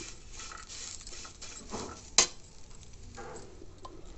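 Onion goes into a hot pan while making drumstick leaf chutney and powder, giving a soft, steady sizzle with one sharp clatter of a utensil midway.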